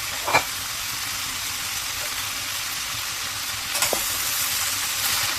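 Bitter gourd leaves and small potatoes stir-fried in a pan give a steady, moderate hiss and sizzle, with a couple of brief scraping stirs near the start and again later on.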